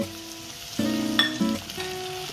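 Yogurt cooking in a pan of frying vegetables for veg pulao, a loud steady sizzle with stirring scrapes and a few tonal clinks, no talking.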